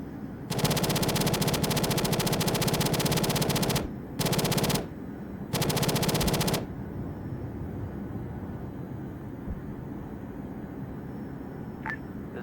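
Aircraft cannon fire in the Arma 3 video game. Three loud, continuous bursts, the first long and the next two shorter, are followed by a steady low engine drone with no talk.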